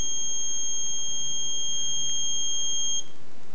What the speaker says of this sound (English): you are having a buzzer indication